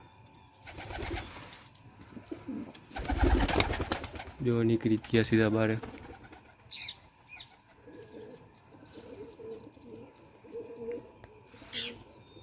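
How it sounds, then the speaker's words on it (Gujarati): Pigeons coo and wings flap loudly nearby, with bursts of fluttering and a person talking briefly at the start and near the end. "કબૂતર બધા નીકળી ગયા"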